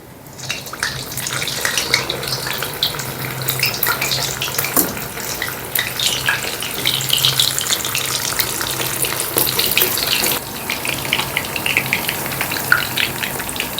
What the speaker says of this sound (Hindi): हमने इसको करना है फुल फ्लेम पर फ्राई